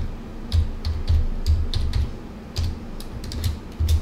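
Computer keyboard typing while entering a dimension label for a custom room finish tag in Revit software, with quick clusters of keystrokes in an irregular rhythm, close and fairly clear, no talking.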